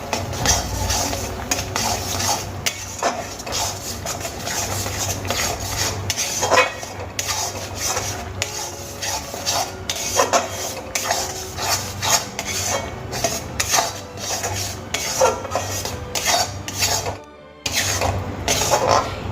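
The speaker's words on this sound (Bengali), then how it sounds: "এবার খুব ভালো করে মশলাগুলোকে কষিয়ে নেব।" Spices with Kashmiri chili powder and turmeric stirred and sautéed in a pan, with steady scraping and rubbing of a utensil against metal, close and continuous, and a brief pause near the end.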